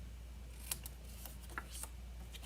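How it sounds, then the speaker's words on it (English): Scissors snip the corners off small paper tags for a stamped birthday card project, giving a few crisp, close clicks spaced irregularly over a faint steady hum. "you're gonna take your scissors and you can go like this and just snip"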